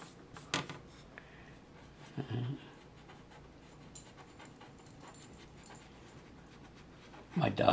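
A pet dog pants faintly indoors with soft, rapid breaths. Two louder clicks or knocks break in near the start and at the end.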